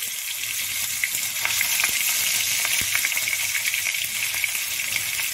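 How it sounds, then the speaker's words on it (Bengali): Prawns added one by one to hot oil for a chingri malai curry, a loud, bright, hissing sizzle that stays steady for several seconds, with small pops and crackles close by and no speech. "আমি এক একটা চিংড়ি দিয়ে দিলাম।"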